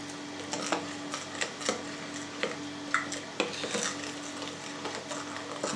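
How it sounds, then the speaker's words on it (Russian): A spoon stirs bread dough as flour is gradually worked into a sourdough starter, making repeated soft scraping knocks at an irregular, unhurried pace over a steady low hum, with no voices. "Пока это возможно, замешиваем все ложкой."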